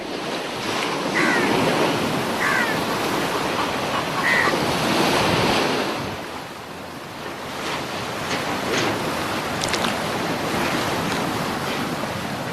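Ocean surf on the Glorioso Islands in the Indian Ocean off Madagascar, a steady wash of waves with wind buffeting the microphone, swelling and easing over the span, no voices.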